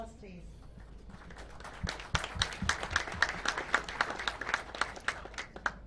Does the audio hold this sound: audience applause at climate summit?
yes